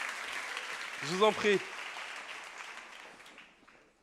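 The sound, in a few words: audience applause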